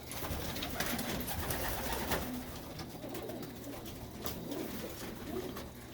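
Pigeons in a loft coo and shuffle in a continuous, busy murmur of soft calls and rustling, moderately close and fairly quiet, with no voices.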